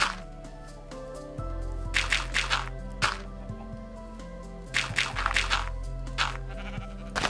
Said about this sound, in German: Hier, da steht ein Schaf.